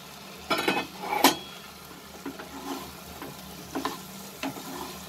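Fried potatoes are stirred into tomatoes in a hot sizzling pan for aloo gobi cauliflower curry, with steady frying hiss and several sharp scraping clinks of the spoon against the pan.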